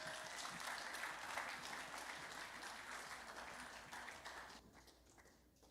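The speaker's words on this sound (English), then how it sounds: "Give a round of applause for Group 1" A church audience at a White Sunday service applauds for a children's group, a dense run of clapping that holds steady and then tapers off, fairly faint overall.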